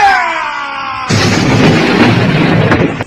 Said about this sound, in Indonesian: ledakan keras terdengar dengan hebat akibat benturan tangan dari kedua tokoh ini